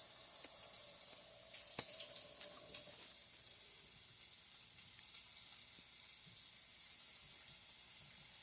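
Tap water runs steadily into a kitchen sink as hands are rinsed after handling ground turkey and tinfoil, a continuous hissing stream with a few faint clinks near the start, no talking.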